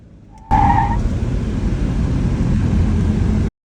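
A drift car fitted with a GK Tech dual caliper hydraulic handbrake kit runs under test, a loud, steady engine and tyre roar filling three seconds after a brief high whine at the start, then stopping abruptly.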